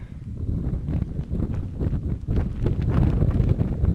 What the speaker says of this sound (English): It's windy, windy.